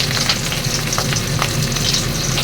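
Fish pieces frying in smoking-hot mustard oil, a loud close crackling sizzle with scattered pops and spatters running steadily for a couple of seconds, no talk.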